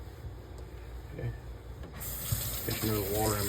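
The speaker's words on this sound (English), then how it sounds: "Get some little water in my dip mug." Tap water runs into a dip mug at a razor-sharpening bench for an Ardennes coticule hone, a soft steady hiss that swells and splashes more strongly partway through.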